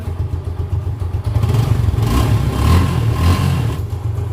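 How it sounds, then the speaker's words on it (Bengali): A used 2020 Suzuki Gixxer SF motorcycle idles at a showroom in Bangladesh, its engine running loud, close and steady with a throbbing low rumble and a slight lift in revs partway through, with no voices. "বাইকটা স্টার্ট হয়ে গেছে আপনারা সাউন্ড শুনে বুঝতে পারছেন"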